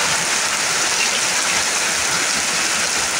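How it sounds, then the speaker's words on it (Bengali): Heavy rain pours down in a constant, dense roar of water, loud and close, with no voices over it. "আওয়াজ করে বৃষ্টি হচ্ছে"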